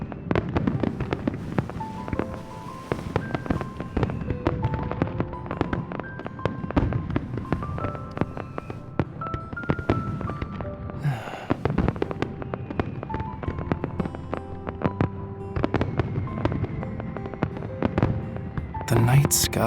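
Fireworks in the game Love and Deepspace pop and crackle through a busy scene, layered under music with frequent sharp bursts, with voices present.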